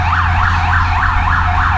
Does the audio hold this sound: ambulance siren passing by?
yes